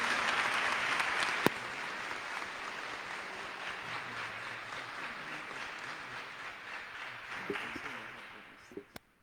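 An audience at a philosophy symposium closing gives loud sustained applause, starting strong and gradually fading over several seconds, with a few sharp knocks near the start and end.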